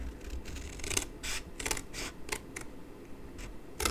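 Scissors cutting through card stock up to score lines for a small birthday card gift box, a run of quick crisp snips and rasping cuts close by, with no voices.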